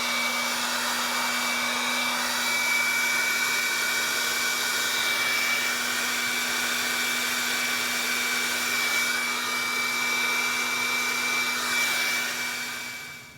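A heat gun blows steadily while shrinking heat shrink tubing over a repair inside a 1kV high voltage power supply, a continuous close whooshing hum with a faint tonal whine that holds for about thirteen seconds before tapering off.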